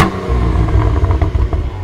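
A Cadillac car's engine revving loud and close, a deep throaty roar with a rapid burbling pulse as the revs rise and fall over a couple of seconds.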